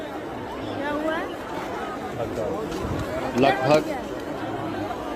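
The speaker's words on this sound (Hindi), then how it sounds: "प्रयागराज महाकुंभ में श्रद्धालुजनों की शायद भगदड़ मच गई है। भारी भीड़ है।" Dense crowd of pilgrims at the Prayagraj Maha Kumbh, a continuous babble of many voices with a few louder shouts rising near the end, close and busy throughout.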